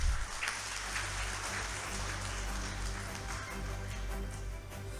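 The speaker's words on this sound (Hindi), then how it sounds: "तो एक बार ज़ोरदार तालियां उनके लिए।" An audience at a mushaira, an Urdu poetry gathering, applauds a poet with steady, dense clapping that carries on evenly throughout, heard from within a large crowd with a low hum underneath.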